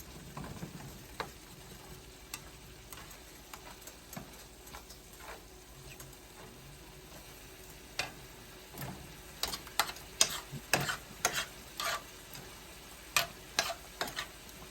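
Ground beef, a lean chuck or sirloin with very little grease, frying in a pan, giving a steady low sizzle broken by scattered sharp ticks and pops that grow denser toward the end, with no talking.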